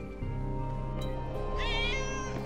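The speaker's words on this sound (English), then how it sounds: "That's definitely a cat." A cat meows several times in the Trials Fusion motorbike game, close and clear over a steady tonal background, ending with a rising, wavering cry.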